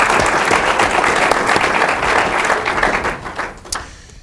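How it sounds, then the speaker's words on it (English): Audience at an evening campus ethics event applauding, a full burst of many hands clapping close by that tapers off into a few scattered claps within a few seconds. "let's give Doug and Dave and Nancy and Pete another round of applause and thank them."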